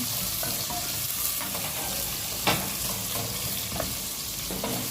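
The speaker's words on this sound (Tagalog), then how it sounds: "Ayan, haluin lang guys. Ihalo-halo natin yan." Sliced onions sauté in a pan, a constant bright sizzle with occasional scraping stirs and light utensil knocks, close and steady with no talking.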